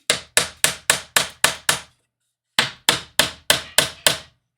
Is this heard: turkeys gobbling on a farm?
no